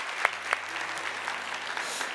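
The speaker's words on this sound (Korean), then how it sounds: "이 시간 큰 박수로 한번 감사의 인사하겠습니다" A church youth service congregation applauds in thanks, a steady wash of clapping from many hands with a couple of sharper claps near the start, moderately loud and without talk.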